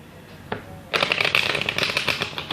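Tarot cards are shuffled close up, a couple of soft taps followed by a rapid riffling flutter of cards that runs for over a second and a half, with no talk over it.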